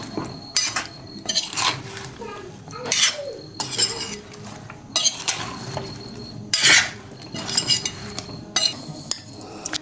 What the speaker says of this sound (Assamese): আৰু এচামুচ মছলা ইয়াত মিহলাই দিলোঁ